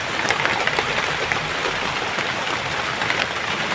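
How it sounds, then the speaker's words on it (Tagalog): Heavy rain pours outdoors during a search in the countryside, a dense, even hiss that fills the scene without pause, fairly loud and close, with no voices. "Kahit lalakas man itong ulan"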